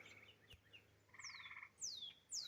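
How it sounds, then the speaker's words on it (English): Frogs croak at dusk in a twilit forest meadow, a faint low pulsing chorus with a short trilling burst, while birds chirp in sweeping calls nearby in a quiet, distant setting. "the frogs are singing their song"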